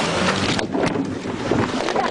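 A boat moving across open water in Africa, with steady wind buffeting the microphone and splashing against the hull throughout.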